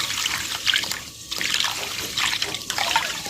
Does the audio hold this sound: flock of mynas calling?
no